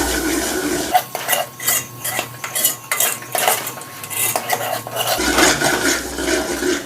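A spoon scrapes and clatters against a pot while onion masala for chicken fries, giving rapid metallic stirring strokes over a soft sizzle, loud and close.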